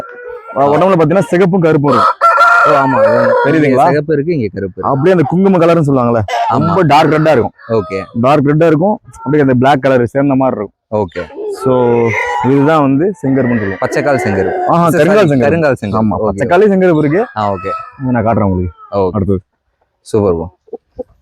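A black-legged rooster in a rooster-fighting setting crows repeatedly and loudly, its calls close by and mixed with nearly continuous talking voices.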